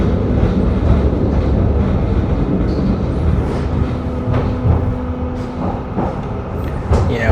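Interior of a moving TW 6000 tram, a low rumbling rail drone with a faint steady tone, occasional clanks and squeaks from the car, and a brief rise in noise near the end.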